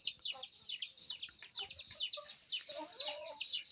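An Aseel Amrohi hen, a rare Amroha chicken breed, clucks close by in quick, repeated bursts with a steady rhythm, accompanied by a few fainter bird calls and no clear talk.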